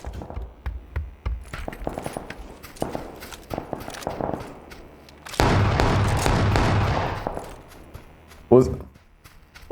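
Gunfire in a multiplayer murder-mystery video game, with scattered sharp bangs and thumps, a long sustained burst of noisy blasts in the middle, then a final loud crack, mixed with game sounds.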